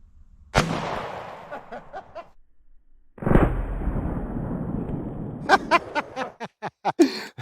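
A .45 ACP 1911 pistol fires at a Gatorade bottle outdoors. Two loud, sharp reports ring out a few seconds apart, each trailing off in a decaying echo, and a rapid run of short snapping ticks follows.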